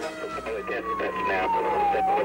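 An Andover police car siren wails as the car speeds through during a killer tornado in Kansas, a sliding tone that falls slowly in pitch, heard under a voice talking on a news broadcast.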